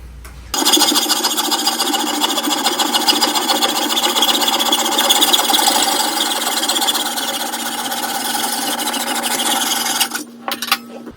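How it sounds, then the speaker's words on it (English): A hacksaw cuts a part for a shower glass door installation, making a loud, close, continuous rasping stroke sound for about ten seconds before it stops abruptly and a few scattered knocks follow. "get my hacksaw, and make that cut."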